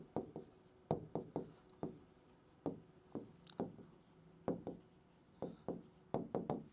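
A pen writes on paper during a physics lesson, making soft, close strokes in a steady rhythm with brief pauses between clusters of marks.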